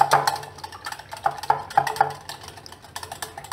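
Spoon stirring powdered sugar into curd for boondi raita, a run of soft clinks and scrapes against the bowl in an irregular rhythm, close and fairly quiet, with no talking.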